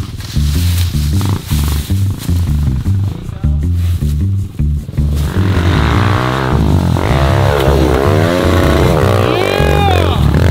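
A dirt bike revs hard in the woods, engine blipping in short bursts before a long rising roar as it climbs over a barrel, close and loud.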